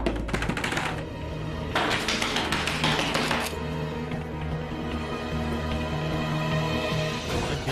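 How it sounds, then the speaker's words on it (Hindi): Rapid, loud knocks pound on a door in hurried bursts, followed by continued banging and rattling at close range. "सृष्टि की जोर से दरवाजा ठोक रहे हैं"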